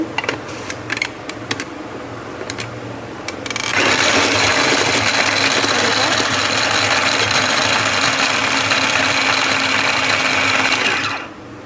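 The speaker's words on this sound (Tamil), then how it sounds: "அதனால் அந்த சாப்பர் வச்சுருக்கேன் நான்." Electric food chopper cutting vegetables, preceded by a few light clicks and taps as it is loaded and closed, then a loud steady whirring buzz running continuously for about eight seconds before cutting off abruptly.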